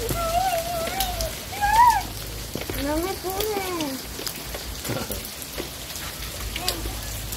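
Heavy rain pours steadily throughout as a broad, constant hiss, with a voice and a child's speech over it and a brief louder patch of talk near the start.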